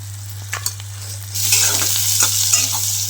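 Chopped onions, cut fairly large, sizzle steadily in a hot pan while being stirred with a spoon. A few scraping strokes come first, then the frying grows louder and fuller from about halfway, with no talking.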